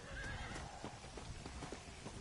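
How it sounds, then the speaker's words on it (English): A war horse in the Red Dead Redemption: Undead Nightmare video game whinnies with a high neigh near the start, while steady clip-clopping hooves carry on throughout over a constant ambient game bed. "So I picked up the war horse now."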